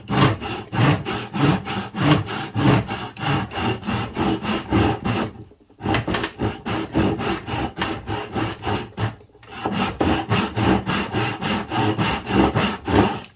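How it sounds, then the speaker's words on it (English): A hand saw cuts wood for a half lap joint in quick, steady rasping strokes. It stops briefly twice, then resumes, and sounds loud and close with no talking. "Okay, so that's this saw, and that's the way that would work."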